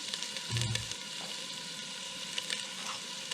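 Onion frying in a pan over medium-high heat, a steady faint sizzle with a brief clunk of stirring near the start, no voices.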